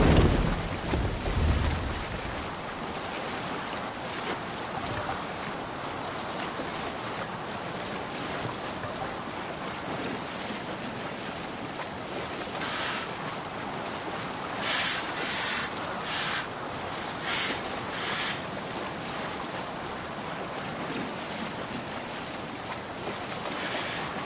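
Sailing ship at sea in Assassin's Creed Valhalla, a steady rush of wind, waves and water against the hull, continuous and fairly soft with no voices.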